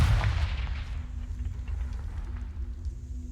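A Confringo blast spell cast in Hogwarts Legacy bursts loudly up close with a heavy low boom, then settles into a rumbling, crackling tail that lasts a few seconds, with no voices.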